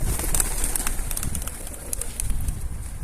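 Pigeons coo softly in a coop, with repeated low murmuring calls mixed with faint rustling and a higher background hiss; no one speaks.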